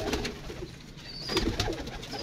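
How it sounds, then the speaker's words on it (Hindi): Black and yellow pigeons coo softly inside a cage, a few low murmuring calls rising and falling over about two seconds with faint rustling behind them. "काले पीले कबूतर"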